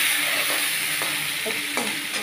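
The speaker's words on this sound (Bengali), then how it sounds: "একটু ভাজা হোক।" Onions, pointed gourd and potato fry in a pan while being stirred, giving a steady close sizzle broken by a few soft scraping stirs.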